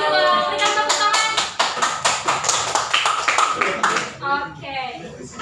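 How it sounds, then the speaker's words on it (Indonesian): Students applauding in a classroom after a group presentation, a burst of sharp, fairly close hand claps that starts abruptly, holds steady, then thins out. Faint voices can be heard near the end. "Berikan tepuk tangan."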